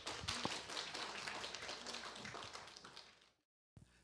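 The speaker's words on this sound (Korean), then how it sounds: "큰 박수 부탁드리겠습니다" Applause from a symposium audience welcoming a speaker to the podium, steady scattered clapping heard from a distance that fades out, then a brief clatter.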